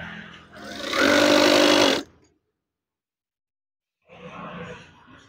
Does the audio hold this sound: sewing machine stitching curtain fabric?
yes